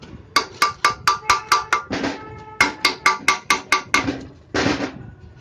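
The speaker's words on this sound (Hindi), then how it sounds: "इसको थोड़ा सा ऐसे ठोक देंगे" Hammer knocking on an exhaust motor bearing to drive it out, two fast even bursts of about seven sharp metallic strikes each, close and loud, separated by brief scraping.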